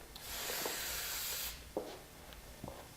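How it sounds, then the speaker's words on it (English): Hairspray hisses onto hair in one steady burst lasting just over a second, followed by faint handling rustles and soft touches in a quiet room. "You can use a lot of spray for this because you want it to stay"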